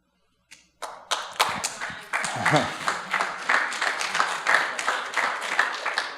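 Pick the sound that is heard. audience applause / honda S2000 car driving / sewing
audience applause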